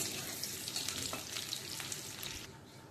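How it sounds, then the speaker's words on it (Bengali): Crushed garlic and radhuni spice frying in oil in a wok, a continuous close sizzle with scattered crackles and faint stirring, no one speaking. "ভালো করে ভেজে নেব, রসুনগুলো একটু লাল লাল হওয়া পর্যন্ত ভাজবো"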